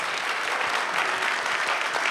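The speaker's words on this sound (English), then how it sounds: "yeah, you can applaud that." A business conference audience claps steadily, a dense, even patter of applause filling the whole moment.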